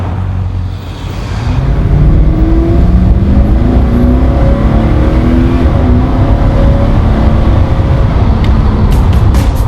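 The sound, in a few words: Porsche 928 V8 engine starting and revving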